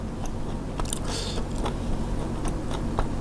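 Crunchy chewing and biting of food, close up, with several crisp crunches scattered over a steady low background.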